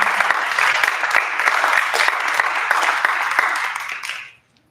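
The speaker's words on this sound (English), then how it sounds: "Let's applaud again." An audience in the Malaspina Theatre applauds at a university colloquium, sustained crowd clapping that stays full and even for about four seconds before tapering off quickly into silence.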